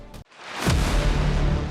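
A single loud gunshot sound effect in a dramatic trailer: a sharp bang near the start, a brief drop to near silence, then a swelling low rumble and noisy impact that sustains to the end, with no talking.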